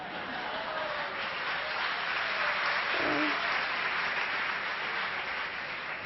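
An audience of medical students at a conference claps steadily, a dense, even wash of applause that holds at the same level throughout with no voices standing out.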